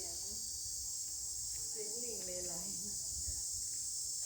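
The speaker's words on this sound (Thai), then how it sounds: "เสียงจักจั่น" Cicadas drone in a steady high buzz throughout, loud and continuous at a dam in the countryside, with a faint voice and other soft sounds briefly beneath.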